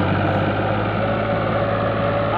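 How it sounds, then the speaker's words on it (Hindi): A tractor engine runs under heavy load while hauling a large load of sugarcane trash and grass, producing a loud, continuous, droning rumble with a steady low hum and no pauses. "ट्रैक्टर की खुल गई भाई, व्हीलिंग स्टार्ट कर दे।"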